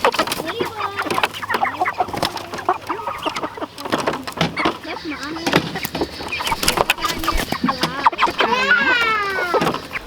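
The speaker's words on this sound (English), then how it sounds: "We got the chickens in." Meat chickens on pasture clucking repeatedly at close range in an outdoor setting, with busy overlapping calls and people talking at times over them.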